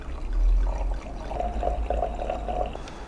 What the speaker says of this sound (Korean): 자, 와인을 한번 따러 보겠습니다.